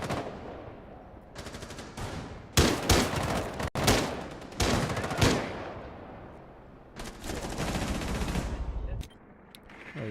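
Rapid automatic gunfire in an esports match of a competitive shooter game, bursts of rattling shots in several volleys, loud and close, with brief gaps between them.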